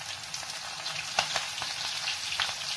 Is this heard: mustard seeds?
yes